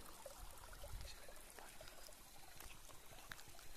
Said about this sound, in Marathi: हे पहा खळखळ पाणी वाहत आहे.